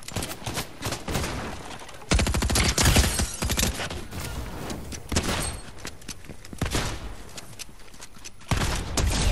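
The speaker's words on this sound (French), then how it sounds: "Ah, j'entends des tirs. Je les entends aussi, hein, les tirs." Rapid bursts of gunfire in a Fortnite match crackle continuously, loud and dense, with repeated volleys that briefly swell and ease.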